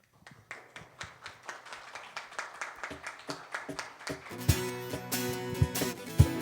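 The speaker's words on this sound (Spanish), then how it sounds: "Empezamos de pie y dándole un fuerte aplauso al Señor." A church congregation claps in time during worship, steady rhythmic handclaps that start sparse and quiet, then swell as more people join, ending in fuller, louder clapping with instruments entering.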